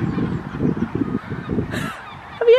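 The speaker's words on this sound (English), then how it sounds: "So funny, them seagulls" Seagulls call over a churchyard at St John's, Werneth, their harsh honking cries coming in short bursts, a sharp call close by at the end, with no talk.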